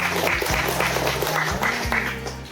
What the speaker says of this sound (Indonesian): Kita berikan tepuk tangan untuk Bapak Sapri